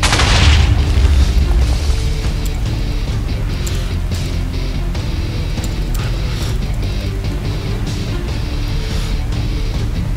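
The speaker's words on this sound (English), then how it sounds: "I will hit him with the torpedoes." Torpedo explosions in the airship combat video game Airship Pirates World, a loud booming blast at the start followed by a sustained heavy roar of battle noise that stays dense and constant throughout, with no speech.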